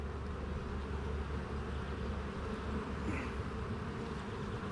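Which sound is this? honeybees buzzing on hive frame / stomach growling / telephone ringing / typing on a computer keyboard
honeybees buzzing on hive frame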